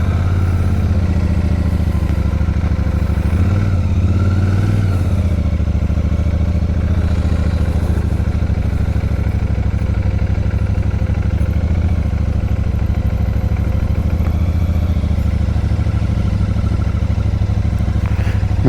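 A Royal Enfield Super Meteor 650 motorcycle rumbles steadily at low speed during slow maneuvering, its deep engine throb loud and close throughout, with a brief swell in revs early on.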